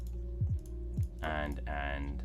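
Several computer keyboard keys pressed one after another, sharp short clicks in a loose rhythm, close by, with someone talking over the later part.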